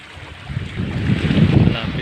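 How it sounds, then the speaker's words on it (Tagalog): At a seaside spot where Japanese forces landed in World War II, wind rumbles across the microphone over a broad wash of surf that swells louder and stays close. "malapit tayo sa tabing dagat tayo."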